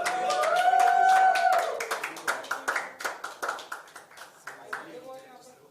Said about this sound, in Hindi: तालियां कुछ तो बजाओ।